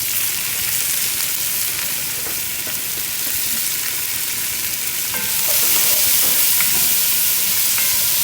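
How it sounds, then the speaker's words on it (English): Chopped onion hits hot oil in a pan for Boston baked beans, a loud continuous hiss and sizzle that swells midway as stirring adds light scraping. "Okay, so we just cut this onion up. Where we've got some oil, it should be pretty hot in there"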